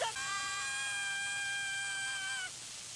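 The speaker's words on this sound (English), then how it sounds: "the scream sounds like Brook" High, sustained scream of an anime character from One Piece, a single strained cry held for about two and a half seconds before cutting off, loud and close with no talk over it.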